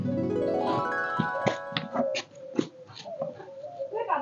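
A dog whimpers and whines in a high, wavering cry that falls away into broken, breathy yelps. The sound is fairly close, with no speech over it.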